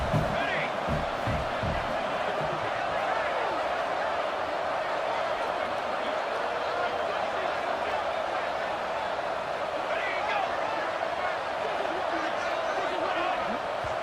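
Steady, loud stadium crowd roar fills a college football video game matchup between UNC and Wake Forest, a dense, continuous wall of noise with scattered shouts, running unbroken throughout.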